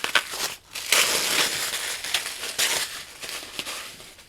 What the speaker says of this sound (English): So let me unwrap this.